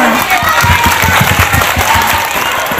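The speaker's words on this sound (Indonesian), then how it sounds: "Tepuk tangan" Loud applause and cheering from a crowd at a primary school celebration, many hands clapping with some rhythmic claps standing out and voices calling over them.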